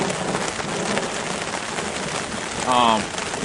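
Steady rain drums on a tent at a stealth campsite during a canoe trip, a dense continuous patter filling the clip, with a brief voice rising near the end.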